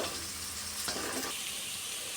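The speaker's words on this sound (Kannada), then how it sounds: "ಫ್ರೈ ಆಗಲಿ ಇದೂ." Onion and capsicum frying in a pan for chicken fried rice, a low steady sizzle with a brief stir or scrape in the middle, heard close and alone.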